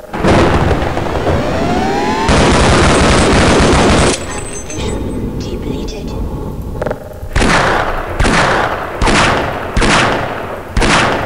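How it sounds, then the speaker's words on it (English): Loud gunfire from the video game Half-Life: a long dense burst of shots with booming impacts, a pause with rumbling debris, then several separate heavy blasts toward the end. "I'll just keep shooting you until"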